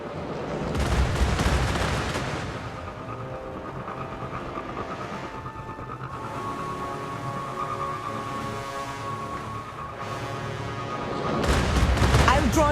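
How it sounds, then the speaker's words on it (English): Goliath tank cannon fire in Destiny: Rising video game: heavy booming blasts at the start and end with a sustained roaring, rumbling battle wash in between, loud and dense, with no talk. "A Goliath tank. Watch out for its cannon."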